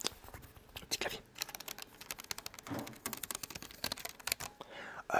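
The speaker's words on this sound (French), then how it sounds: "Le petit clavier." Rapid light tapping on a small computer keyboard in a gaming setup, close and quiet with irregular clusters of keystrokes and brief pauses, with soft whispering underneath.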